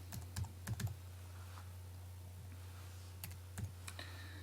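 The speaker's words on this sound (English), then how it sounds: "just typing anything there" Computer keyboard keys typed in short clustered bursts, quiet and close over a steady low electrical hum, with pauses between the bursts while someone sets up a task in a web app.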